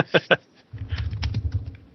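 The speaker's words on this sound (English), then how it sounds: "Who's typing?" Computer keyboard typing on an open mic during an online podcast call: a quick run of soft, close clicks and clacks that follows a couple of brief spoken syllables.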